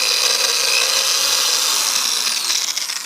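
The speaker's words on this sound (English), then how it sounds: "So I'm just going to drill one, and then you can go off and drill your 7 for your SMARTA." A drill bores a hole straight through the middle of a plastic SMARTA food cup, giving a close, continuous high grinding whir for a few seconds with a slight rough scraping toward the end.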